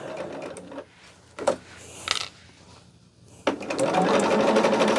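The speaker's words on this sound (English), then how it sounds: "after I get this sewed all the way on, I will press it" A sewing machine stitches a quilt block, running in short whirring bursts with a pause and a few clicks, then settling into a steady, close, continuous hum of stitching.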